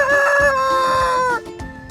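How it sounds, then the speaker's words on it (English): A chicken, most likely a rooster, gives one loud, drawn-out crow lasting over a second, close and clear, then trails off into quieter farmyard background. "Chicken sound is called cluck."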